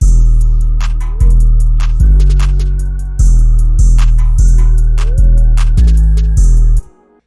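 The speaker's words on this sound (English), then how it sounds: "So altogether, the drums with all of the melodic elements sound like this." An Atlanta-style trap beat plays loud and close, with drums over melodic elements: booming 808 bass notes change roughly every second under rapid, steady hi-hat ticks and snare hits, then cut off abruptly at the end.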